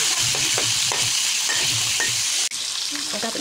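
Fish frying in a pan for a fish soup lunch, a steady loud sizzle and crackle with soft stirring knocks throughout, and a brief dip near the end before the hiss resumes.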